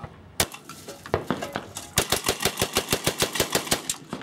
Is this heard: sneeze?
no